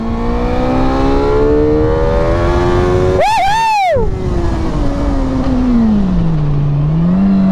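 A stock-condition car engine roars loudly on a race track, holding a rising and falling harmonic drone with a sharp revving sweep through the middle before settling into a steady lower pitch, no voices over it.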